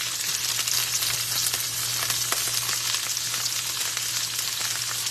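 Food fries in a small wok for shrimp ramen, a dense, even sizzle and crackle with faint stirring scrapes, loud and close with no voices.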